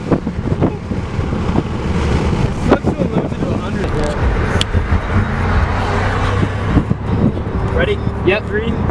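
A 700 hp Audi RS7 launches and accelerates hard, its engine roar surging under strong wind buffeting and road rush, with excited passengers talking over it inside the car.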